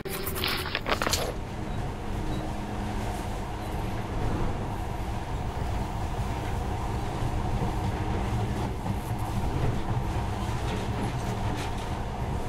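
A monorail train in the game Metro Last Light runs with a continuous rumbling, rattling roll that stays steady throughout, with a brief sharper clatter at the very start.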